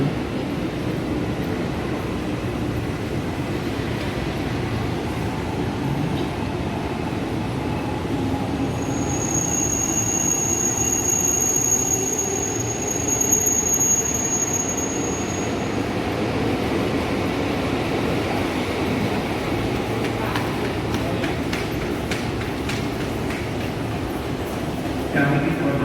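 A train rumbles steadily along the platform at the new Tanah Abang railway station, with a high wheel squeal rising midway and clicking track noise later, heard close and continuous throughout.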